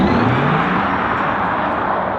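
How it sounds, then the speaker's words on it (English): Porsche Taycan Turbo S launching from a standstill, a loud sustained electric whine and whir with a rising tone and a dense rush of tyre and road noise, close and continuous throughout. "The sounds delivered to the driver from a standing start are a shocking moment of 4 scrabbling tyres and an extraordinary sci-fi electric buzz."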